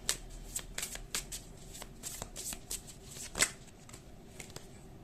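Deck of tarot cards shuffled by hand, quick papery riffles and snaps in an irregular series, close and fairly quiet, with one louder slap near the end.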